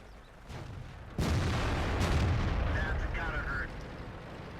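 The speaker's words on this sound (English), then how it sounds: "Artillery is coming down on us" Artillery shells landing around a tank in the World of Tanks video game: a sudden loud blast hits, then a sustained rumbling roar follows for several seconds before easing off.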